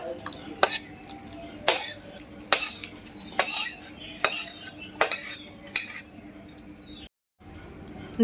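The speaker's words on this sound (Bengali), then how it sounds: "পেঁপের চাটনি হয়ে গেছে এবার আমি এটা নামিয়ে একটা বাটিতে তুলে নেব" A metal spoon scrapes and clinks against a pan while papaya jelly chutney is scooped into a bowl. Six or seven sharp taps come at a steady rhythm, followed by a brief pause.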